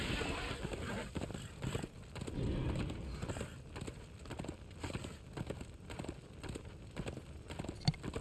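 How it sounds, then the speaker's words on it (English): Rhythmic hoofbeats of a galloping horse in the video game Darksiders 2, steady and fairly close, with a low ambient rumble behind them and one sharp thump near the end. "now I can ride the horse"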